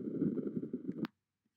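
A song slowed and pitch-lowered by negative 80 percent in Audacity plays as a deep, murky, sluggish drone with a low pulsing rhythm, ending in a brief higher blip before falling silent.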